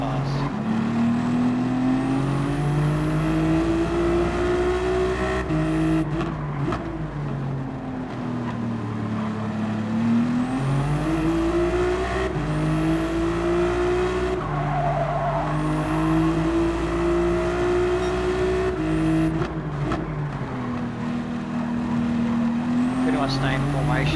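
A Ferrari race car engine in a sim racing game drones continuously at high revs, its pitch rising and falling through gear changes in a pack of cars, with talk running over it throughout.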